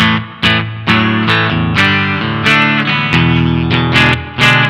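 Clean electric guitar through an amp's clean channel with spring reverb, with a series of strummed chords ringing out at a steady pace, fairly loud and close, with no talking.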